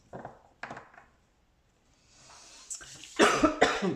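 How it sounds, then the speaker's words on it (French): A few short, breathy coughs, then a louder burst of harsh coughing near the microphone. "Je tousse"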